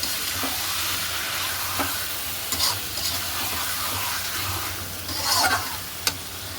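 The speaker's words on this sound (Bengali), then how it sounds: "এখানে তেলে চিকেনটা দিয়ে দিলাম ম্যারিনেট করা চিকেনটা শুধু কষাবো" Marinated chicken frying and being stirred in hot oil in a home kitchen, a steady dense sizzle with occasional scraping stir clatters and brief spatter bursts, close and continuous with no talking.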